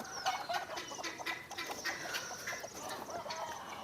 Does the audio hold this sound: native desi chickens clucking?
yes